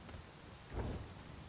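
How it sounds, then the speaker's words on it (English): Soft, steady rain in the Conan Exiles video game hisses faintly throughout, with a brief low rumble swelling midway through. "I can't tell if it's trying to rain or snow."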